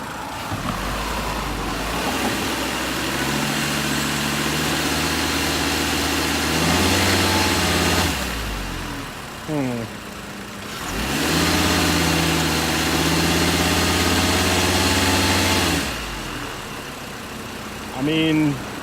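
A 2011 VW Golf engine runs with no load, its steady hum rising into two brief rev-ups and then settling back, with people talking over it throughout.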